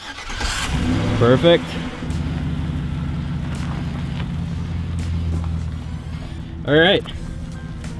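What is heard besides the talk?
truck engine starting and running over a boot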